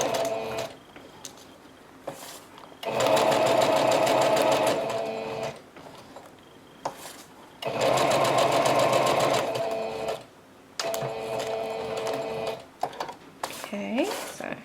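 A sewing machine stitches fabric and lace, including zigzag work on paper bag embellishments, running in three long loud bursts of rapid stitching with quieter pauses between them.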